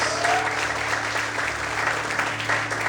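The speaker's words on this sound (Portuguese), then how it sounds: "Quantos podem levantar a mão para o céu, aplaudir o Senhor essa noite?" A church congregation claps continuously at an evening service, a dense steady applause at moderate level that runs without a break, with faint voices underneath.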